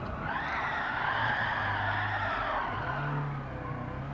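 Hard braking in a Toyota GT86 or Honda DC2 Integra Type R on track, with a loud continuous broadband tire skid sustained over a low engine drone for about four seconds.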